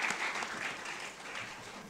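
A round of applause from a college student induction audience welcoming the chief guest onto the stage, a dense, even patter of many hands, fairly distant and soft, without speech.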